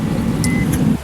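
A bus engine from the game Bus Simulator Indonesia, a steady low drone running for about a second and then cutting off abruptly, loud and alone.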